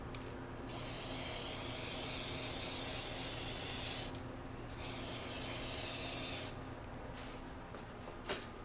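Spray paint mists in two long, loud hissing bursts while bronzing an item, the can's steady hiss cutting off between passes and ending with a few short taps.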